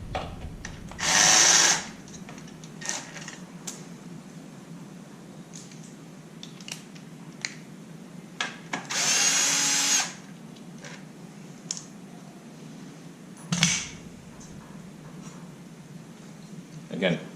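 A power drill loosens screws on a Suzuki RM125 motocross bike during radiator work: two short, loud whirring bursts several seconds apart, with quieter shop noise and low talk in between.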